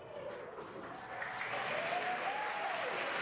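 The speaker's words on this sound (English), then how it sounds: "An eruption of applause here at SpaceX Mission Control." A roomful of people at SpaceX Mission Control breaking into sustained applause after a rocket booster lands, the clapping swelling steadily and continuing loud and dense throughout.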